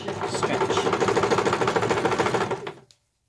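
A sewing machine stitches the edge of a piped cushion cover, a close, steady rapid rattle of needle strokes for nearly three seconds before stopping abruptly, followed by silence.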